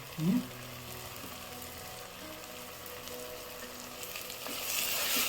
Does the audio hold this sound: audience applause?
no